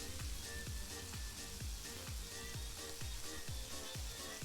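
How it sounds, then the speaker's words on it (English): Strips of bacon sizzle and crackle steadily in a hot pan, a dense continuous hiss with bursts of popping, heard up close with no talking. "there's nothing like the sound of frying bacon, is there?"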